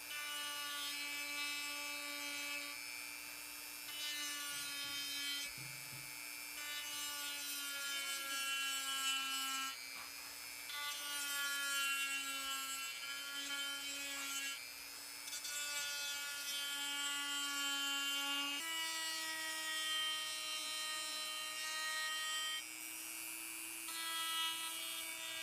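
A small high-speed Dremel rotary tool whines steadily, its pitch dipping and rising as it sands pine wood detail areas lightly in short passes.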